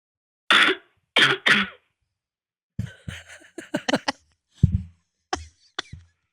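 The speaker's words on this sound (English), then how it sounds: "That was a large cough." A person with a cold coughs in a few harsh, close bursts, then follows with a string of smaller coughs and throat-clearing sounds separated by silence.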